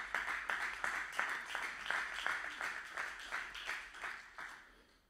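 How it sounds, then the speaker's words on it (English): A church congregation claps in a steady rhythm during a sermon, the sound fairly faint and evenly spaced, with no voices over it, fading out toward the end. "Somebody clap."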